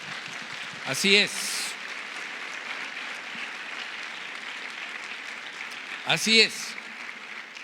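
A church congregation applauds through a Sunday sermon as a steady, moderate wash of clapping, while a preacher speaks briefly over it near the start and again toward the end.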